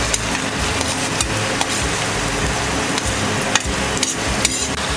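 Sliced onion dropped into hot oil in a pan for a Marathi stuffed brinjal masala, giving a dense continuous sizzle with occasional knocks of a spoon or pan, close and fairly loud, with no talking.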